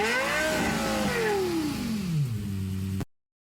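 Lexus LFA engine in a sim racing game revving hard with a rising then falling pitch sweep, loud and close, settling toward idle before cutting off abruptly.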